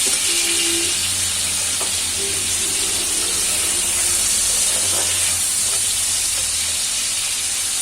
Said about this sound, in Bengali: টমেটোগুলো নরম হওয়া বা সিদ্ধ হওয়ার জন্য নুন দিয়ে দিলাম।